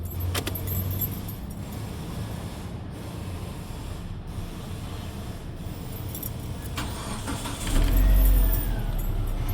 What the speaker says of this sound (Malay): dah tukar relay diode, kita cuba start